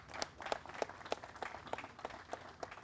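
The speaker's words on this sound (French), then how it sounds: "Sous vos applaudissements, s'il vous plaît." Audience applause at a Haitian coast guard graduation ceremony, sparse and fairly faint, with a steady run of separate claps rather than a dense roar.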